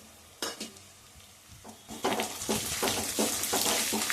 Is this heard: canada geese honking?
no